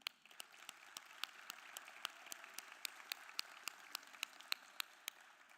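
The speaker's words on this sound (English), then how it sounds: "Graduates, let's take this moment to applaud and thank your families for being part of the village" Graduates at the Morris Jeff Community School class of 2025 commencement clap for their families, a steady patter of crowd applause with sharp individual claps standing out, moderately distant and sustained.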